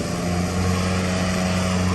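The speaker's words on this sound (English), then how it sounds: "tractor over here, Troy built, getting on it" A loud old Troy-Bilt lawn tractor idles steadily nearby with a constant, droning engine hum and no talk over it.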